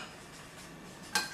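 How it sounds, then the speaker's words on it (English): A teaspoon stirs oats with cinnamon and a little water in a bowl, soft scraping under low room noise, then a couple of sharp metallic clinks against the side near the end. "Mix it around with a teaspoon for a few minutes."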